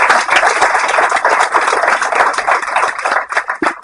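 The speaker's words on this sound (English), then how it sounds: "Let's give a round of applause to our panelists and Liz" An audience at a business panel event gives a sustained round of dense, close applause for the panelists, continuous clapping that holds steady before thinning slightly at the end.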